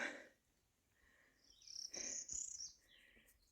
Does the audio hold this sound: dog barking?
no